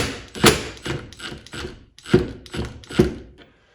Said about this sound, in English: I'm gonna go ahead and grab my impact again